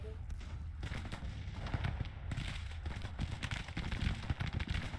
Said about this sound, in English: Let's change the order for this artillery here. Fire at will.